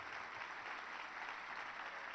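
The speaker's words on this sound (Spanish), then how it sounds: "Aplauda al Señor." Church congregation clapping together in steady, dense applause, loud and continuous throughout with no voices above it.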